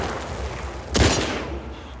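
One sharp burst of video-game gunfire cuts through a constant background rumble midway, followed by a short fading tail.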